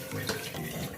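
Water pours into a cooking pot of mutton curry for a restaurant-style dish, a brief continuous splashing rush, close and moderately loud.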